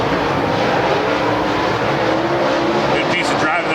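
Dirt-track race cars roar in a dense, steady wall of engine noise as the field returns to green on a restart at Lernerville Speedway, loud and continuous throughout.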